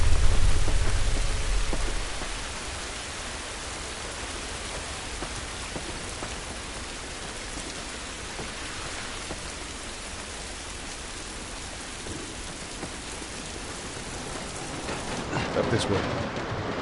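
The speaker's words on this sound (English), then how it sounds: "It's raining, but this will be good." Steady heavy rain pours down throughout, a constant hiss with a low rumble at the start and a faint voice near the end.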